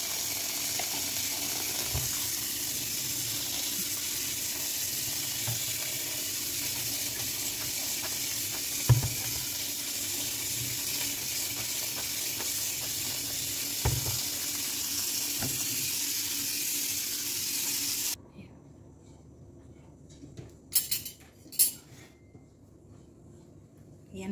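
Cold tap water runs steadily over cooked elbow macaroni for most of the stretch, a continuous broad hiss with faint clinks, then it stops abruptly, leaving a quieter space with a few light knocks.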